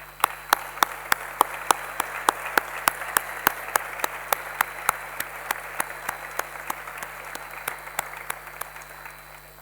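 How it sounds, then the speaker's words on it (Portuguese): A crowd gives a round of applause at a civic day ceremony, steady dense clapping with sharp individual claps standing out, sustained evenly for the whole stretch at moderate loudness. "salva de palmas."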